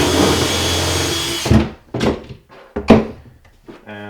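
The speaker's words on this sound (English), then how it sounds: "we'll get a little bit larger drill bit, and that way the screw sets in. It's called countersinking." A power drill with a slightly larger bit countersinks a screw hole in a tiny-house cabinet, sounding as a steady whine for about a second and a half and then a few short separate bursts, close and loud.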